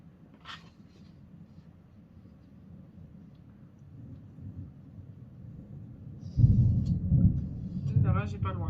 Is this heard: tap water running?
no